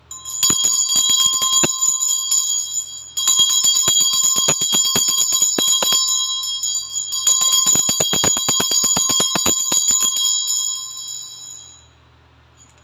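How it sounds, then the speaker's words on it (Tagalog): A bell rung to cleanse the energy before a tarot reading gives repeated bright, sustained metallic rings in clusters of rapid strikes, loud and close, with no voices, fading out near the end. "i-ring ko lang ang bell to cleanse the energy bago tayo magsimula."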